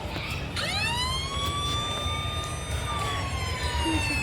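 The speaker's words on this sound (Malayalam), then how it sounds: "പോലീസ് വണ്ടിയുടെ ശബ്ദമാണല്ലോ കേൾക്കുന്നത്" A police siren wails loudly and steadily, its pitch rising quickly then holding in a long sustained tone, with low traffic rumble beneath.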